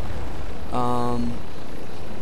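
An MD530 LittleBird helicopter in Battlefield Play4Free, a steady loud rotor and engine drone with a short tonal game sound briefly layered over it.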